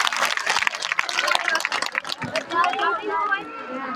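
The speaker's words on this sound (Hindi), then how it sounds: "ताली बजा दें सिस्टर के लिए" Audience clapping at a community event for domestic women workers, dense and lively applause that runs throughout, mixed with crowd chatter and calls, fading into a softer hum near the end.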